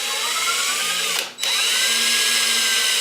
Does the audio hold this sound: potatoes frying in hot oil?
no